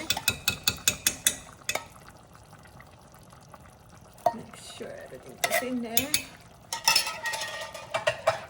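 Spoon stirring thickening coconut milk in a pot for Thai green curry, with sharp clinks against the sides, then a wet swirling. A voice speaks briefly.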